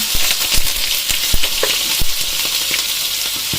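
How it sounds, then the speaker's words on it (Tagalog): Garlic sizzling loudly in a hot pan with oil and toasted sesame seeds, a steady crackling hiss dotted with sharp pops and spits throughout, close and without any voices. "Tapos lagay ko na yung aking bawang."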